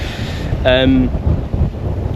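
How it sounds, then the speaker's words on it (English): Gusty coastal wind on Madeira buffets the microphone with a low rumble, and a brief voice-like tone rises partway through. "it is so windy down there"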